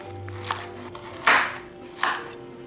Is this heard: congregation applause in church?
no